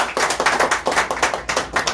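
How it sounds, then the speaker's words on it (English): Audience clapping at an academic conference on global cities, a dense burst of many hands with rhythmic pulses, fairly close and steady for two seconds with no talk. "Give them a clap."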